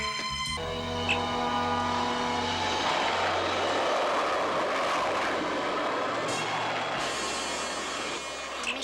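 Spacecraft liftoff in a science-fiction space series: a loud, steady broadband roar and rumble with layered engine tones runs throughout, briefly shifting near the end.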